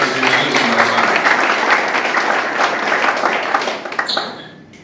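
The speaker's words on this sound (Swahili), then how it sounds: "Kwa hiyo tujipigie makofi na tujipongeze kwa kazi nzuri mnayofanya." An audience at a football club members' meeting applauds with dense, loud clapping that holds steady for several seconds and then fades out.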